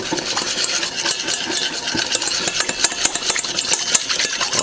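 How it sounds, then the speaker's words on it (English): Whisk beating sugar into melted balsamic butter in a pan: quick, close metallic clicks and scrapes in an uneven rhythm over a low background hum, with no talking. "we're going to put in our little sugar packet and get that whisked in here"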